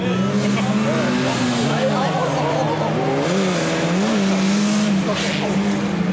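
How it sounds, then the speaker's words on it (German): An autocross race car at Mölln corners hard on two wheels, its engine note rising and falling loudly and continuously with tire noise, while an excited announcer talks over it throughout. "Auf zwei Rädern Olaf Matern eben um die Kurve."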